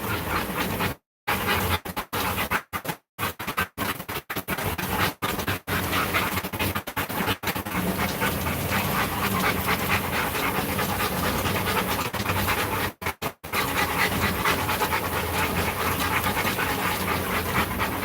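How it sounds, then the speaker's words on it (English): Several large working dogs pant loudly and steadily close by, a dense continuous rasp of rapid breaths with a few brief gaps and no talking. "These guys, some of the biggest dogs that we run."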